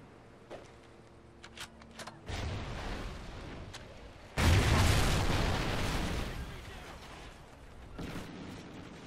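Stun grenade detonating in a first-person shooter match on the Stonehaven map, a sustained roaring burst with a rumbling tail following a few faint clicks, loud and close with no talk over it.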